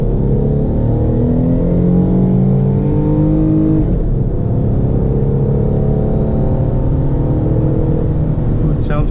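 A 2009 Dodge Charger SE accelerates in low first gear from around 3,000 RPM, its engine a loud, steady roar with rising harmonics that climbs throughout, heard from inside the car with no talking.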